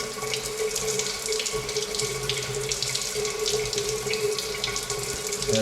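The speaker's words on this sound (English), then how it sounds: "So it's an electric shower." Water runs steadily from an electric shower on a timer at a wild camping spot, a continuous broadband hiss and splash held at an even, close level for the whole stretch.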